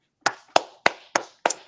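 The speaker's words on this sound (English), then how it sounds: "little round of applause" Five slow, deliberate hand claps land one by one, evenly spaced and close, each sharp smack trailing off before the next.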